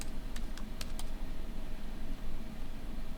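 A computer keyboard being typed on in a quiet room gives a quick run of sharp, close key clicks early on, then fades under a low background hum.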